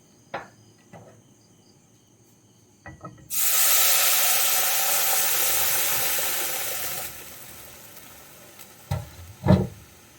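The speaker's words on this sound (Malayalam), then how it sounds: "പരിപ്പ് ചേർത്തിട്ട് ഒന്ന് മിക്സ് ചെയ്ത് കൊടുക്കുക." Cooked dal goes into a hot tempering pan, setting off a loud, steady sizzling hiss for several seconds that then cuts out, with a few clinks of a utensil before and after.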